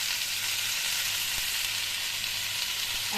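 Potato, sweet potato, pumpkin and eggplant pieces frying in hot oil give a steady, continuous sizzle with a soft crackle, close up, with no voices.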